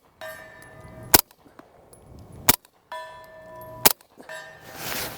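Three sharp pistol shots from a Grand Power Stribog SP9A3S, evenly spaced about 1.3 seconds apart, each answered by a metallic clang off a steel target, with faint ringing tones in between.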